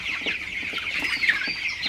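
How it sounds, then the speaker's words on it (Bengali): A flock of broiler chickens clucks and chirps constantly, many birds overlapping in a busy, close chorus without any talking. "আপনার মুরগিগুলা লাফালাফি করে পানি খায়"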